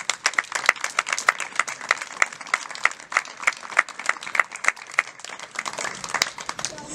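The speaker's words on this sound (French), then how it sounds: "On peut les applaudir." A small evening gathering at the unveiling of a student mural claps for the students, with lively, fairly close applause that runs steadily for about seven seconds and shows distinct individual claps.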